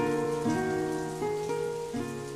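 Rain falls on the roofs and stone courtyards of a medieval castle, a steady, moderately quiet hiss throughout, blended with a sustained low tonal drone whose pitch steps up a few times.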